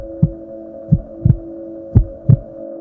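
A rapid heartbeat effect with five deep, thudding beats, some doubled, over a steady low electronic hum, loud and close with no voices.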